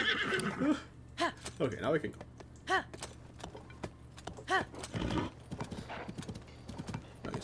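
A horse in Tears of the Kingdom whinnies several times over brisk clip-clopping hooves, close and lively, while a person talks over the scene.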